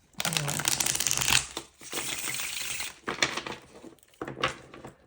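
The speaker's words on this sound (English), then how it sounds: "I'm going to do one more shuffle." Tarot cards are shuffled in several quick riffling bursts, crisp flapping and clicking close by, separated by short pauses.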